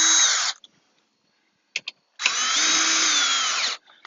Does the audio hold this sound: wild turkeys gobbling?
no